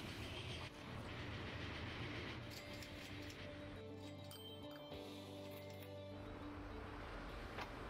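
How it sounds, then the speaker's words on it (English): Locomotives run steadily in the Transport Fever 2 rail simulation, a constant loud rolling rumble with sustained tonal hums and whines layered over it and no talk. "Go train, go! They look amazing. These locomotives."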